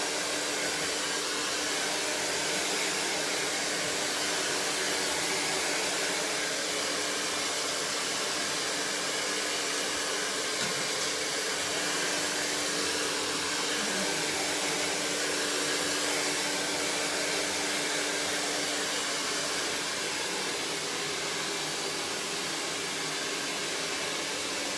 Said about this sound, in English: I'm just going to blow dry it now as straight as what I can.